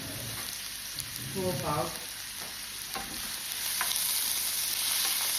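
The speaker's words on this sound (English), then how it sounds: "with my onion, green pepper, and garlic, and we're gonna fry that" Onion, green pepper and garlic sizzle in a pan for lasagne prep, a moderate steady fry with a few stirring scrapes under brief speech.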